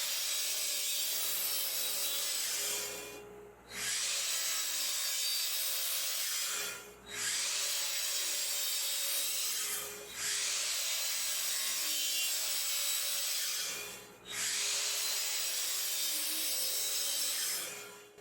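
A miter saw cuts 5.5-inch wooden boards in five long, steady rasping passes separated by short dips. The sound is close and loud, with no talking.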